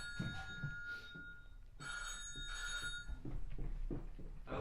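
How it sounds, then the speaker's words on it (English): A satellite phone on a sailing yacht gives bursts of electronic ringing tones, two long trills separated by a gap. Faint background noise and some low voice-like sounds sit under the rings. "satellite phone call."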